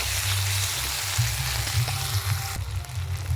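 Chopped onion sizzles steadily in a hot pan, with a few stirring knocks and scrapes breaking up the frying hiss.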